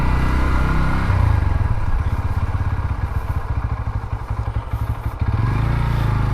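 A Bajaj Pulsar N125 motorcycle idles up close, with a steady, loud putter that shifts into a lumpier, pulsing beat partway through, then settles again near the end.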